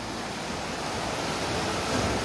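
Sea water surges and churns against a rocky coast at Cape D'Aguilar, Shau Kei Wan, a steady broadband wash of surf with wind, swelling slightly louder near the end, with no voices.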